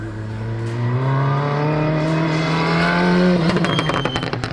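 A VW MK8 Golf GTI race car engine with an anti-lag system rises in a loud, sustained climbing drone, then breaks into rapid popping and crackling bursts near the end, heard close with no talk.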